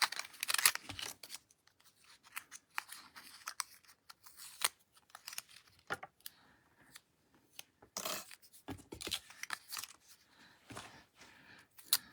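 Scissors snip through card stock as pieces are cut out for masculine fun fold cards, a close, quiet series of irregular crisp cuts and rustles separated by short pauses.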